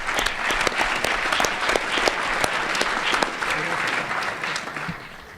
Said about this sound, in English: let's give the parents a round of applause for all their hard work